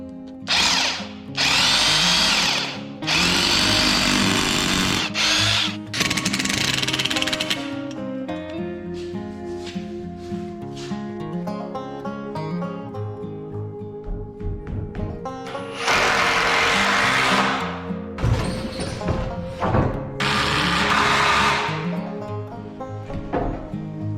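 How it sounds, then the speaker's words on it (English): Loud, close hammer drilling in repeated bursts, the motor whining and rattling between sustained runs with a steady hum underneath. "I brought out the actual hammer drill"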